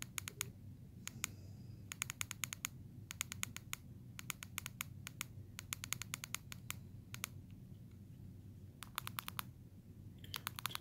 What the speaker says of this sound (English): To unlock it, I think you just click it a few times and then you're back.